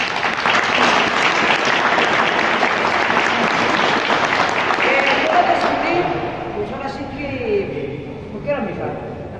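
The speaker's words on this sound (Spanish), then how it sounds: "Quiero que les dé un fuerte aplauso a esta mujer." An audience at a wrestling show presentation breaks into sustained, dense clapping that fills the room, then thins and fades out in the final seconds.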